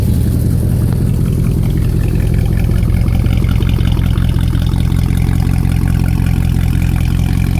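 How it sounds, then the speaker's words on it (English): A straight-piped Mercedes C63 AMG engine idles loudly and steadily nearby, a deep, rough rumble that holds throughout with no voices. "Now listen to the idle."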